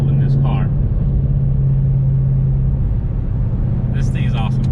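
A 2018 McLaren 720S under hard straight-line acceleration, heard from inside the cabin as a loud, steady low engine drone and rumble, with brief voices at the start and end.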